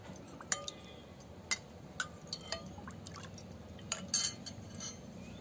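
Spoon stirring rose milk mixture in a glass while making a summer rose milk drink, with scattered light clinks of metal on glass over a low background hum, no talk.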